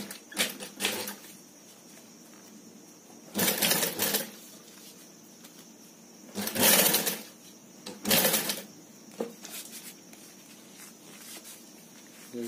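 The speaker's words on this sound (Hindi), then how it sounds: "इसको ये दोनों के बीच में रख के चारों इसके तीनों तरफ सिल देंगे" A sewing machine stitching a thin strip along three sides of a handmade purse runs in about five short bursts of rapid, close mechanical chatter, with quiet pauses between them.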